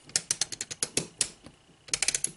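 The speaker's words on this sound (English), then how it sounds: "sort of a ratcheting, as you can hear." Quick runs of crisp ratcheting clicks, close up, in two bursts with a short pause between, from an Arespark extendable monopod being adjusted through its settings.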